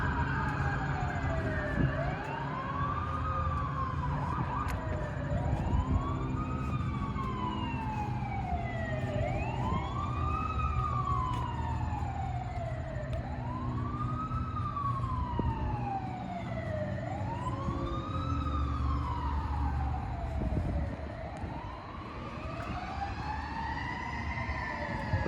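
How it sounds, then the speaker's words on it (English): Wailing police sirens rise and fall repeatedly over steady city traffic rumble in downtown Trenton, New Jersey, loud and continuous for the whole stretch. "Must be a lot of police or sirens going on."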